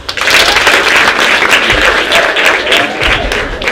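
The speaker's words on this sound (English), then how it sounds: "Clap for her." An audience claps for a named member at a menstrual dignity kit distribution in a girls' secondary school hall, a dense, steady round of applause filling the whole stretch, loud and close.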